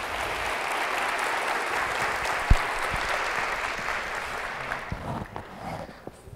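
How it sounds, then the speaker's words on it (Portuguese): Sustained audience applause at a health forum in Blumenau, steady dense clapping that fills the room and thins slightly toward the end, with a few louder individual claps. "Uma salva de palmas pela coragem dele vir aqui"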